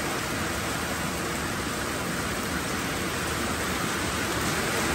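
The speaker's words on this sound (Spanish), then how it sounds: "El aguacero, mira, ahora se vino fuerte el agua" Heavy rain pours onto a pickup truck at a ranch near Culiacán, a dense, continuous hiss and patter at an even, loud level without pause.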